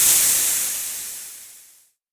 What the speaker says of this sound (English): That sound is a snake.